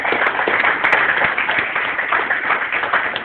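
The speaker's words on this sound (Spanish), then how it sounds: "Dale fuerte las palmas al Rey." Church congregation clapping loudly for the King, a dense continuous wash of applause from many hands with no gaps, close and full.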